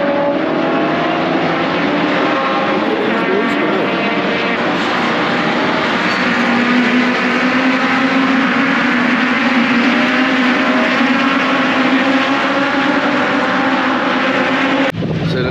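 Legends race cars at Brands Hatch roar off the start as a pack, a loud, continuous blend of engines holding a steady drone throughout with no talk.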